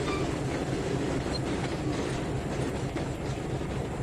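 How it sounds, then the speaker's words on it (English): A train in the Trainz 2019 rail simulator rolls along the track while pulling its full consist and gathering speed, giving a steady, continuous rumble with a faint rhythmic clatter of wheels and no voices. "Still pulling the entire train, but he's speeding up much."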